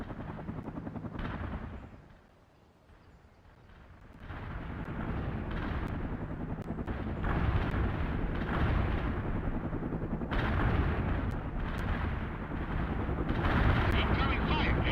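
Artillery fire in the real-time strategy game World in Conflict rumbles as a dense, continuous barrage of booms and thuds, loud and close, with a brief lull before the bombardment resumes heavier, with game voices talking over it.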